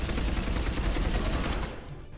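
The Revenant machine gun in Mass Effect 3 fires a loud, rapid sustained burst of rattling shots up close, ending abruptly into a brief fading tail.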